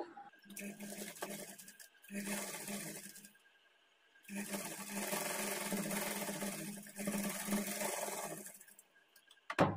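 A sewing machine runs along a fabric edge for a blouse, several bursts of steady motor whirring separated by short quiet gaps, close and without talk.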